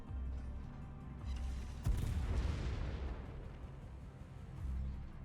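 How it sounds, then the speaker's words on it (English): Warship front guns fire in the World of Warships naval battle game, giving one sharp, deep boom that rolls out over a steady engine and sea rumble. "Just lobbing his front guns."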